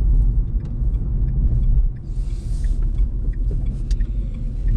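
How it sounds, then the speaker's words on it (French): From inside a car accelerating firmly up to 50 km/h on a town street comes a loud, steady low engine rumble with road noise. A brief hiss rises partway through, and no one speaks. "Je n'hésite pas à accélérer franchement à 50."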